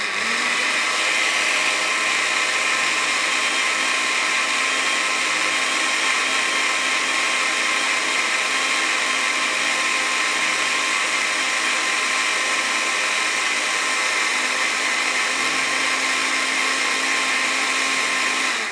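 An electric beater whips two eggs with half a cup of cooking oil into a foamy brownie batter, a steady, loud, continuous motor whine running unbroken throughout with no speech.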